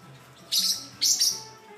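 A pet bird chirps while dancing, giving two bright, high chirps close by, the second a quick doubled call, over a quiet room with no talking.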